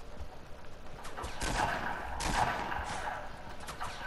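Gunfire crackles in a Fortnite 50 vs 50 match: several bursts of rapid shots at moderate distance, fairly faint, over a steady background hiss.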